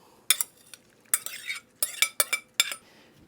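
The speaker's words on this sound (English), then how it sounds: "Now, back in goes the chorizo." Chorizo goes back into a pan for Mexican shakshuka and gets stirred, bringing quick bursts of scraping and clattering utensil strokes against the pan over a faint sizzle.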